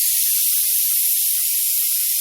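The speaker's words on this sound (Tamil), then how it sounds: "நம்மளோட குருமாவோட ஃபர்ஸ்ட் விசில் வந்தாச்சு." A pressure cooker whistle lets off steam while veg kuruma cooks, a loud, continuous high hiss that holds steady throughout with no voices.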